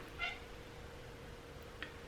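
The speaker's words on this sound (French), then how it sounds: "Le chat." A cat gives a short, faint meow nearby, followed by a second brief, quieter meow a moment later over a low steady hum.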